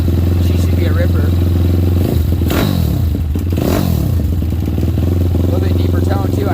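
A Daytona Anima motorcycle engine with holes drilled in its exhaust baffle runs close and loud with a deep, steady idle, then revs up and falls back twice in the middle before settling again.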